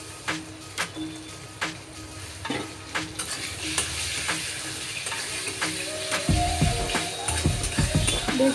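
Onion with ginger-garlic paste and tomato sizzles in a pan while a utensil scrapes and stirs in sharp intermittent knocks, the frying hiss growing fuller and louder toward the end.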